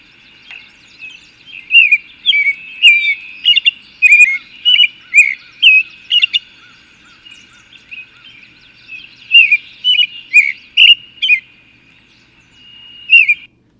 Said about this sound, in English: You might not know what an American robin sounds like.